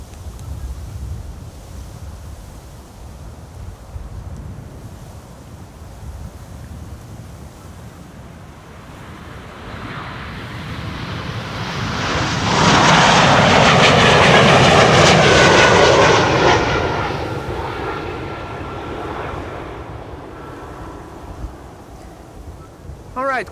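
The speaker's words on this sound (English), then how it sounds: "this E2 Embraer 195 to Krakow" KLM Embraer E2 195 jet taking off for Krakow, a roar that builds from a distant rumble to a loud, close, rushing peak mid-clip and then fades as it passes.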